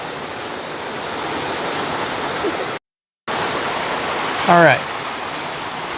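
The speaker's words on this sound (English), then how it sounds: "now we get to eat lunch and see these cool waterfalls" Happy Creek Falls in the North Cascades makes a steady, loud rushing roar of falling water from start to end. A brief voice speaks near the middle, and a short chirp sounds over the roar.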